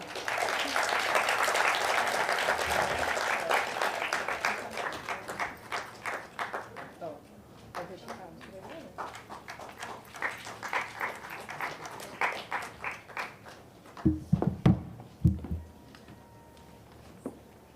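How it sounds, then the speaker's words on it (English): An audience at an international Mithila painting exhibition applauds an award winner with full, dense clapping that gradually breaks into scattered individual claps, while voices talk over the thinning applause. "A big round of applause for her."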